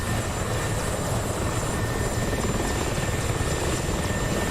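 Mi-24 attack helicopter flying in a combat flight simulation, a continuous dense rotor and engine drone at moderate level, steady with faint tonal whine above, no talking.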